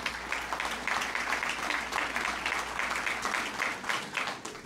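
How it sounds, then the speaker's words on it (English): An evening audience in a room at a local mayoral campaign event applauds the organizer, sustained dense clapping from many hands, steady and moderately loud, fading slightly at the end. "so please give her a round of applause"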